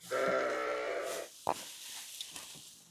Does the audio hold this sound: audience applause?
no